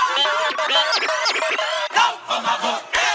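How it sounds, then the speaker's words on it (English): Chopped sample inside a beat with scratch effects placed between the chops: quick pitch-sweeping scratch swipes and stuttering fragments fill a short, loud, busy passage with no speech. "These are scratch effects."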